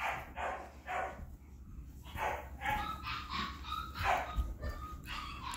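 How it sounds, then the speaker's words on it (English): A puppy whimpers and cries in repeated high, whining bursts. It sounds fairly close, with no talking. "It's Admiral crying."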